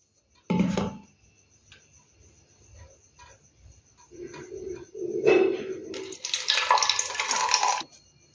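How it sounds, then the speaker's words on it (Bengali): Homemade lemon syrup is poured slowly into a bottle in a kitchen, a soft trickling pour that starts low and rises into a brighter, louder splashing stream for a few seconds near the end, after a brief clink at the start. "এটা আমি এখন আস্তে করে ঢেলে দিচ্ছি"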